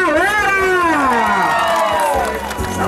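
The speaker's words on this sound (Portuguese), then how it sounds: "Palmas pra família!" A crowd cheers and shouts at a family tribute gathering, its voices rising and falling in sustained whoops with some applause underneath, loud and close throughout.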